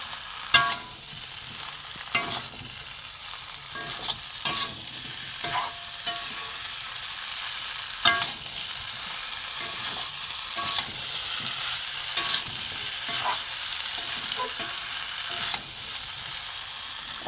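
Jackfruit and prawns frying on high heat: a continuous close sizzle broken by repeated sharp stirring scrapes and clanks of a spatula in the pan, irregularly spaced, with no talking.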